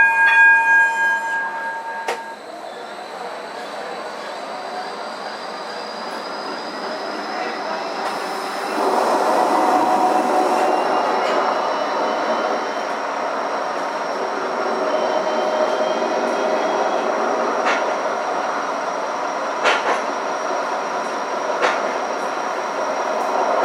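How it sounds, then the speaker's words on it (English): A Gold Coast tram travels toward Broadbeach South with a steady rolling rumble and hum, occasional metallic clicks and faint wheel squeal, heard from inside the car, with a voice briefly present. "This tram is travelling to Broadbeach South, stopping at all stations."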